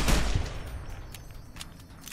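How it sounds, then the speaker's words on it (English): An anti-materiel rifle firing in Fallout: New Vegas's Lonesome Road, one heavy close blast that rolls off into a long echoing tail, with faint sharp clicks afterward. "Oh, that guy has a anti-material rifle."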